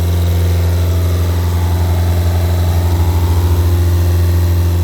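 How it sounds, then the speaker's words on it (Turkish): A Ford Focus TDCi diesel idling with its radiator cooling fan running during diesel particulate filter regeneration, a steady, loud mechanical drone with a low throbbing hum, continuous and close. "Fanımız çalışıyor."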